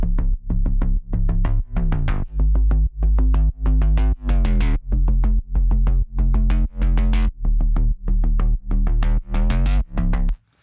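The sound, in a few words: pop song synth chord with cutoff automation and overdrive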